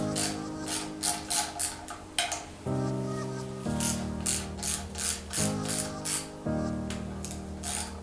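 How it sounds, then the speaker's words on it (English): Wrench ratcheting and metal clicks while the oil pump pickup tube is unbolted from a Ford 302 small-block V8 during teardown, a steady run of close ratchet strokes in bursts with no talk. "I'm just taking off the pickup tube right now"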